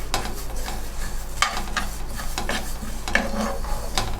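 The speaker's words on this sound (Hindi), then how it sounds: "जल्दी जल्दी से चम्मच चलाना ताकि ये जल ना जाए" A spoon stirring yellow mustard seeds and other spices dry-roasting in a pan for garlic-pod pickle, rapid repeated clinks and scrapes over a low crackling sizzle, close and steady.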